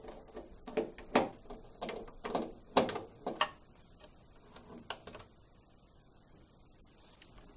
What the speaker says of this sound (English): I'm now going to remove the two screws that hold the hinge and the door assembly in place.